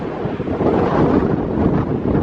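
Strong wind blows across a hillside cemetery in an abandoned Nevada gold-camp ghost town, a loud steady roar of gusts buffeting the microphone with no break and no voices.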